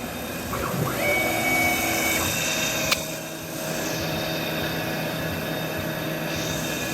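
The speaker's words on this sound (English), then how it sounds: "we're going to head over to the machine and take a look at it threading" A CNC machine thread mills a hole, giving a steady mechanical whir with faint tonal whines and one sharp tick, constant and fairly close with no talking.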